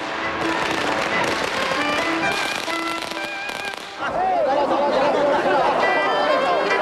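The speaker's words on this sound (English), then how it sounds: "filling this first day of the new year with the explosion of firecrackers" Firecrackers crackle and bang amid a noisy street crowd celebrating the first day of the new year, with lively chatter and voices mixing throughout.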